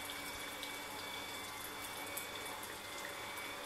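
Water discharged by a pump into a tank while a chiller is descaled, a steady close rush of flowing water with a faint hum running underneath.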